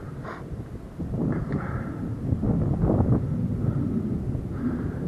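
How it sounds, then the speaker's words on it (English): Unseen jet aircraft flying somewhere overhead on the mountain route up Snowdon via Crib Goch, heard as a continuous low, broad rumbling roar that swells slightly and holds steady throughout, distant and diffuse with no voices. "I can hear the sound of jets flying around as well, but can't see them."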